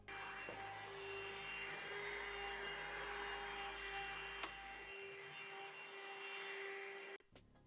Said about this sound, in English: And because there was a lot of fluff on my desk, I had to vacuum.